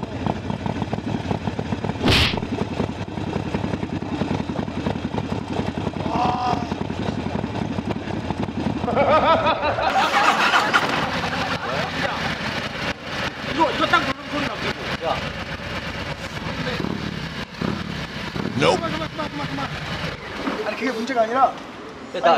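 A motorcycle engine idles and revs throughout, said to sound like a small city-bike scooter, with loud overlapping voices talking and laughing over it.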